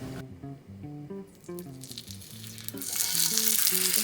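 Steaks go into a hot, oiled pan and sear with a sizzle that starts under soft melodic music and swells after a few seconds into a loud, steady hiss.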